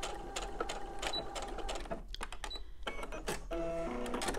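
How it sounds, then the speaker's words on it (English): A sewing machine stitching straight through fabric, then backstitching: quick rhythmic mechanical clatter in bursts with short pauses, close up and alone. "And so I just stitch all the way and then I backstitch."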